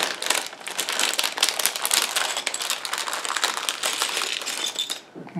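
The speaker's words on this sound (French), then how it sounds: "ce que je vous propose de faire, c'est de déballer le gros sachet" A large plastic bag of Lego Star Wars pieces is torn open and handled close by, giving a steady, dense crinkling and rustling with small clicks of loose bricks, then quieting at the end.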